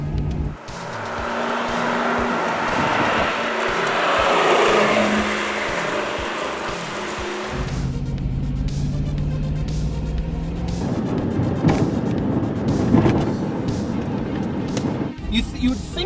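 A Lamborghini Jalpa engine revs hard at high rpm, a loud sustained roar with rising and falling pitch that carries on throughout, and a voice talks over part of it.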